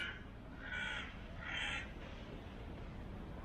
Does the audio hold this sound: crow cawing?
yes